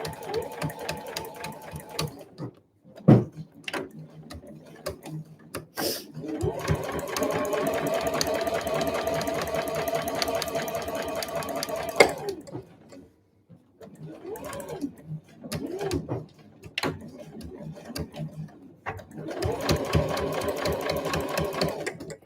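Sewing machine backstitching and stitching a convenience-store eco bag, running in long steady whirring bursts separated by pauses and short clicks, with someone talking between the runs.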